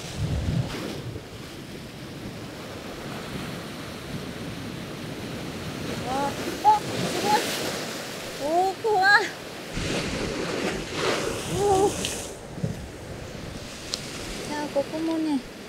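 Strong gusting wind buffets a rocky seashore, roaring steadily with surging swells of noise, and a person's voice cuts in briefly now and then.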